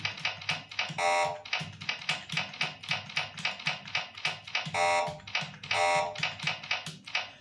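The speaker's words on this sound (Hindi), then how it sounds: "जैसे मैं गलत प्रेस कर रहा हूँ, आवाज़ आ रही है ना" Hindi typing practice on a keyboard, rapid key taps in a steady rhythm broken by several loud buzzing error tones from typing tutor software on wrong key presses, close and clear with no talk.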